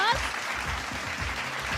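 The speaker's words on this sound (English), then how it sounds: "Can I have a big round of applause?" Applause from an audience greeting the quiz winners at a cross-border economic leadership forum, an even wash of clapping with a low rumble underneath, continuous for the whole stretch.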